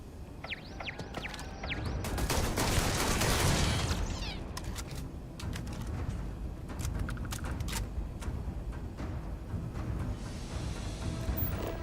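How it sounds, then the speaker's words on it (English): Turret gunfire in the game Starfield: a dense burst of shots and booms swells early, then rapid firing and impacts continue more sparsely, loud and close throughout. "Oh, it's a turret."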